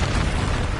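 An Expulso spell explodes in the video game Hogwarts Legacy with a short, loud, dense boom that fills the moment with low rumbling blast noise.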